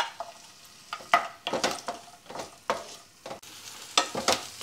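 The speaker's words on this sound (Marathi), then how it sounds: "तर या ठिकाणी आलं, लसूण आणि सुकं खोबरं छान भाजत होत आलं आहे." Garlic, ginger and dry coconut sautéing in a pan make repeated scraping stirs, each a burst of rustling sizzle in an uneven rhythm, close up with no talking.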